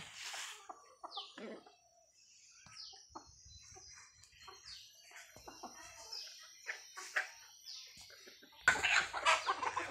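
Native roosters cluck on an organic farm in a scattered run of short, nearby calls, with a brief louder burst of noise near the end.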